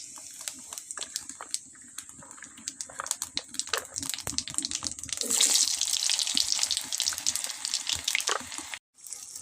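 Potato pieces frying in hot oil in a pan for a tomato and bay-leaf curry, a continuous crackling sizzle with scattered sharp pops that swells louder midway before cutting off briefly near the end.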